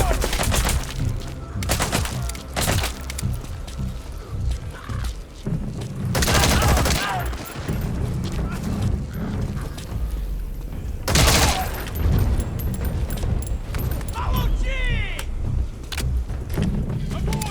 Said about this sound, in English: That's pretty cool, those grenades. You really hear them.